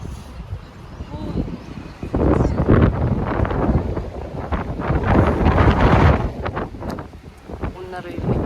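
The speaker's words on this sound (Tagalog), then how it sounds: "Kung narinig nyo ng hangin, ang lakas." Strong gusts of wind blowing through a park, buffeting the microphone with loud rumbling surges that rise and fall, with faint voices in the background.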